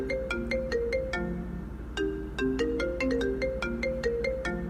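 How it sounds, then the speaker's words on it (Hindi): A phone ringtone plays a repeating electronic melody, steady and clear, with no voices. "शाजिया के बाप का फोन है, क्या कहूं?"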